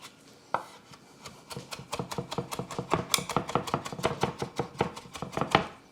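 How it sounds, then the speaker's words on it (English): Smashed ginger is finely chopped with a knife in a rapid, even run of close, crisp taps on a board that keeps going for several seconds. "we'll just give it a fine little chop, just to make sure everything is chopped up"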